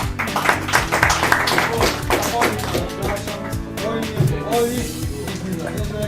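Applause rings out at a kart racing podium ceremony at the Sosnowiec autodrome, honouring the race winner. A steady crowd clapping runs for several seconds and is mixed with background sound and voices.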